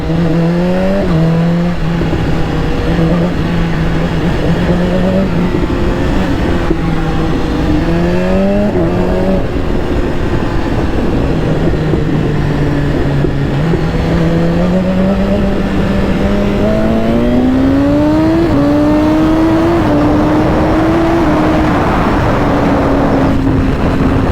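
A race car engine, loud and close, drops through gears, its whine repeatedly stepping and sliding in pitch with blips between shifts as it slows, continuous and without talk.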